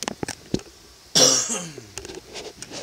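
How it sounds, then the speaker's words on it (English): A single loud, close cough bursts out about midway through, with a short throaty tail, while quieter game sounds and faint clicks fill the background before and after. "I always got a cough when I record."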